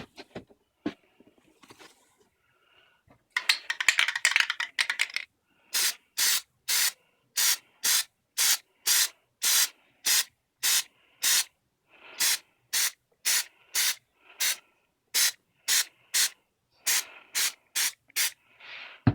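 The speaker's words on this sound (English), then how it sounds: "Just going to spray it and give it a nice beaded texture." A spray can lays a beaded texture coating onto armor in many short, sharp hissing bursts repeated in a steady rhythm, close and loud, after a longer rattling spray at the start.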